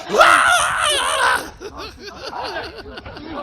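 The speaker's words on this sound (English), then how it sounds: "Why is he screaming like that?" A man screams loudly and shrilly for about a second and a half, then the sound falls into wavering, moaning vocal sounds and laughter-like outbursts that carry on at a lower level.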